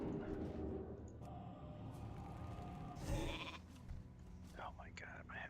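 A sheep bleat from the polymorph spell in World of Warcraft Classic sounds amid dense game combat noise, with a wavering bleat near the end over the busy mix.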